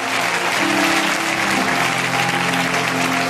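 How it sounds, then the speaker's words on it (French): Church congregation breaking into sustained, dense applause that fills the room, loud and continuous for a few seconds with a faint murmur of crowd underneath. "Si tu le crois, acclame mieux que ça."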